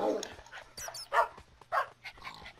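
Several dogs bark in short, separate bursts in the Minecraft Real Pets mod, with a faint continuous hum underneath.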